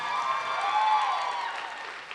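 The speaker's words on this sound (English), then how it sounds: "One more round of applause for Nexon's very own Yoonmi" A short burst of audience applause, steady clapping from a crowd that fades slightly toward the end.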